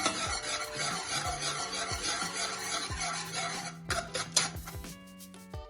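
A spoon works through thick Jamaican peanut porridge in a pot, giving soft scraping and stirring sounds with occasional knocks against the pot, close and fairly quiet, ending with a few clearer clinks.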